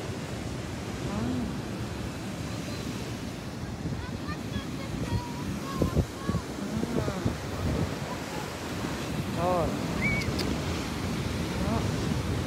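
Ocean surf surging and crashing at Natural Bridge State Beach in Santa Cruz, a continuous roaring wash with gusty wind buffeting the microphone, and people talking briefly and faintly over the waves.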